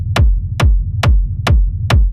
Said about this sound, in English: For this, I'll be using a kick rumble loop from our pack Radiant,